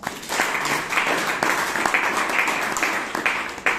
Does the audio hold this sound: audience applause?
yes